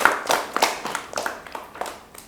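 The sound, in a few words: audience applauding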